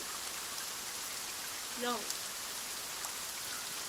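Steady rain falls and hisses across the whole stretch, a dense wash with a brief higher chirp partway through and no talking.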